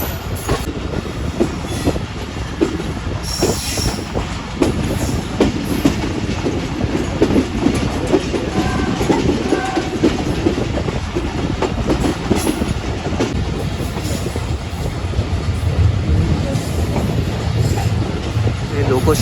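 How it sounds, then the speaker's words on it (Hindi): Pakistan Express passenger train rolling from a branch line onto the main line near Shorkot Cantt loco shed, with steady loud rumble and clickety-clack of wheels over joints, occasional squeals, continuous and close. "ब्लू लाइन से मेन लाइन पर दाखिल हो रही है हमारी ट्रेन"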